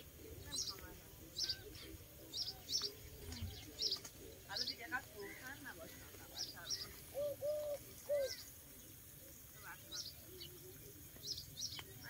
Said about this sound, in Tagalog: Tahimik na paligid at huni lang ng mga ibon ang iyong naririnig.